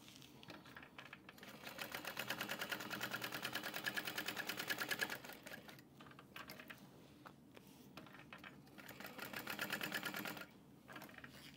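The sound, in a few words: sewing machine quilting a train case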